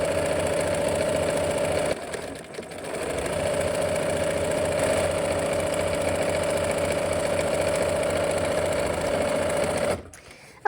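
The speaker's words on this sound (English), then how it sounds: "let's go ahead and sew" A sewing machine runs steadily, stitching fabric seams on a flower basket quilt block, with a loud, close, even mechanical whir that pauses briefly once before resuming and then stops, with no talking.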